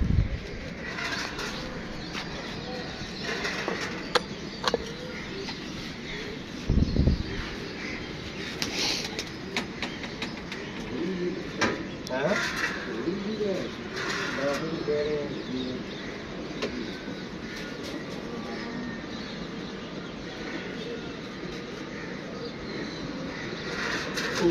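Two female and three male pigeons coo repeatedly close by as they are flown, with bursts of wing flapping and scattered chirps against an outdoor background.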